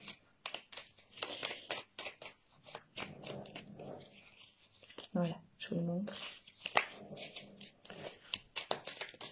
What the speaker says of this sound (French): Donc, premier paquet, c'est l'oracle de Béline.